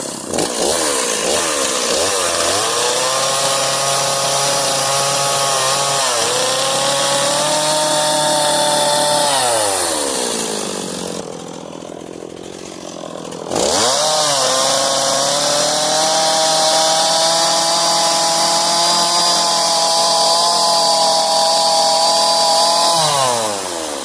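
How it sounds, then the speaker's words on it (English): A Stihl 260 chainsaw carves a wood bear, its engine screaming loud and close at high revs with sustained cutting, then dropping to a near-idle lull around the middle before roaring back up to full throttle. "It's a Stihl 260, not a huge chainsaw"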